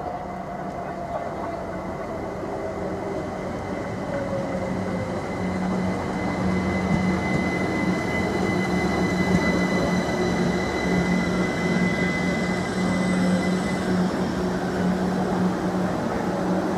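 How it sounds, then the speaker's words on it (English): A train pulls into platform 2 at Ely station, a London King's Cross service: a loud, sustained rumble of wheels on rails with ringing squeals and a steady mechanical hum, heard close from the platform. "Here comes the 1318 service to London King's Cross, now arriving into platform 2."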